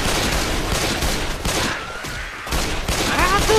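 Left 4 Dead gunfire as a team fights zombies: a continuous, loud barrage of rapid overlapping shots that briefly dips in the middle before surging back, with a voice faintly audible underneath.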